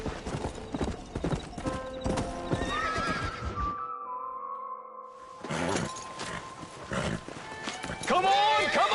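Horse hooves clatter rapidly with loud whinnies in Red Dead Redemption, busy and energetic, dropping briefly to a quiet lull before the galloping returns.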